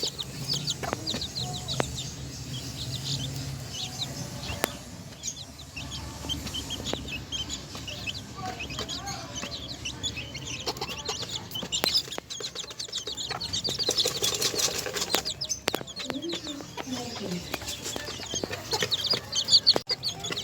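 Chickens at a small backyard chicken farm cluck and call steadily, with bursts of wing flapping and rooster-like calls mixed in, a busy continuous flock scene up close.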